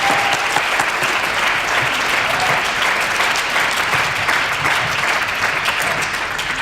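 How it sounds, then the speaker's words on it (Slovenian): Sustained applause for hackathon teams, winners and others, at a tourism hackathon event: dense, steady clapping from a sizeable audience filling the whole stretch at even loudness. "Prosim, še en aplavz za vse te ekipe"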